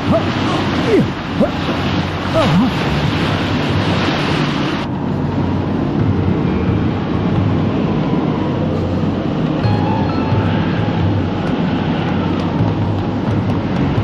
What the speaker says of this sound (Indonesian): Angin puyuh dan pusaran air bergabung menjadi satu.